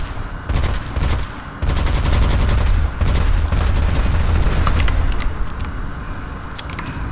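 Fully automatic weapon fire in Witchfire, a game set in the 1600s: long, loud sustained bursts broken by brief pauses, with a few scattered clicks and shots trailing off near the end.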